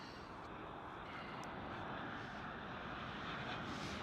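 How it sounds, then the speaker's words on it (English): An Airbus A321neo long-range airliner, an older model without a mask, flying near Schiphol Amsterdam, its engines producing a steady, moderately faint broadband roar that swells slightly toward the end, with no voices. "A Neo. A321 long range."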